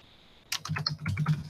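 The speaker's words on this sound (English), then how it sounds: "I'm going to try typing something in here." A few quick taps on a computer keyboard come in a brief close burst after a near-silent start, light and clicky with no talk.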